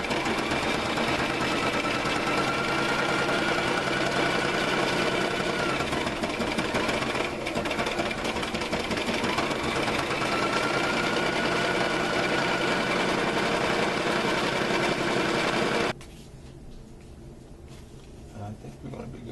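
A sewing machine stitching fabric for a car dashboard cover, running in a continuous loud, rattling drone for about sixteen seconds before it abruptly stops and the room falls quiet.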